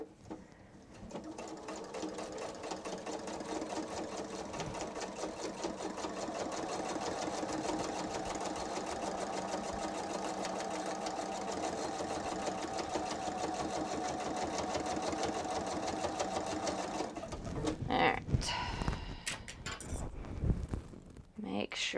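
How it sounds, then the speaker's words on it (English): A sewing machine runs steadily for about seventeen seconds, stitching a wallet seam through many stacked layers of fabric, then stops and is followed by clinks and handling noises. "Now we have to stitch down the other side. Same considerations. Lots and lots of layers of fabric."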